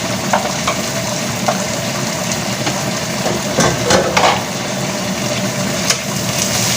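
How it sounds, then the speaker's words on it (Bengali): Ground cumin, ginger and garlic paste frying in a pan for an egg curry, a loud continuous sizzle with scraping stirs and a few sharper clinks of the spoon against the pan. "সবগুলো দিয়ে একটু নেড়ে নেব মশলাটা।"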